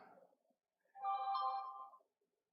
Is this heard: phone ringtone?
yes